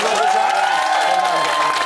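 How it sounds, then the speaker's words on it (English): Studio audience applause fills the space in a continuous, loud wash of clapping and cheering, steady throughout with no pauses. "So give them a round of applause for now."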